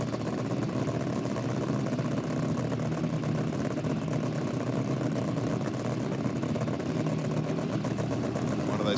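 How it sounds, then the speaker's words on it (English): A nitro-fuelled hot rod drag car runs at a drag racing event, its engine crackling through the exhaust pipes in a steady, sustained rumble heard at moderate distance without any talk. "You can hear that distinctive crackle in the pipes."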